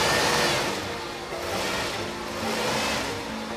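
A Ford Thunderbird with a 7-litre V8 revs inside a car showroom, a steady loud engine roar that swells and eases in waves with no talk over it.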